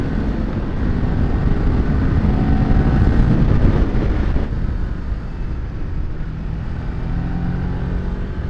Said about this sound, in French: Elle a une petite sonorité rageuse au fond d'elle. Elle est trop étouffée par ce pot d'origine, là.